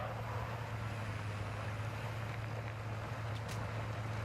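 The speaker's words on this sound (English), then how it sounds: "That diesel engine is noisy." A diesel boat engine in Warzone 2.0 drones steadily with a low, constant hum under a broad wash of wind and water noise, unchanging throughout.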